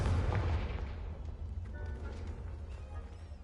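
A Confringo blasting spell goes off in Hogwarts Legacy, a loud booming blast that opens strongly and then decays into a rumbling tail over several seconds, with no voices.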